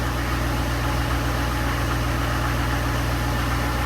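Duramax diesel truck engine idling roughly right after a cold start at about -20°F, a steady low throbbing rumble with constant vibration and no talk.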